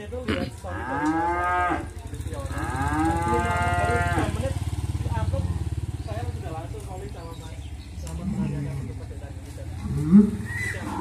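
Young calves on an Indonesian cattle farm moo in two long, drawn-out calls near the start, followed by a steady rumble of farm background with a person talking.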